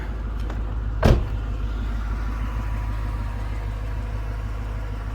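A Mercedes-Benz E55 engine idles steadily with a low, constant rumble, broken once near the start by a brief sharp clunk.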